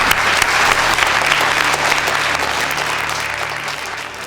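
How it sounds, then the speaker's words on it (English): A community audience applauds a group of children, loud continuous clapping from a close crowd that holds steady and tapers slightly toward the end. "So give them a big round of applause."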